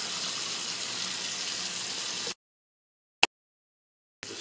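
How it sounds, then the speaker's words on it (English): Tap water running steadily at a sink during a wet shave, a loud even hiss of flow that cuts off abruptly, followed by near silence with one small splash and the water starting again at the end. "I'm going to wet my face."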